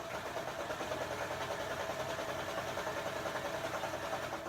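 A serger runs continuously through thick layers of quilt fabric, a steady mechanical whirring hum with rapid rhythmic stitching texture, close and fairly loud, no talking.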